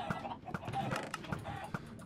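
Minecraft chickens cluck in short, repeated bursts, a few birds close together in a busy, steady game soundscape with no talk.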